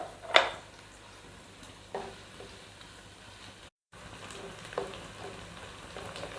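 Onions fry gently in a pan to brown before okra goes in: a faint, steady sizzle with a few sharp utensil clicks, and a brief dropout partway through.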